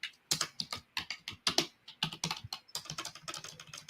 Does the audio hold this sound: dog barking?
no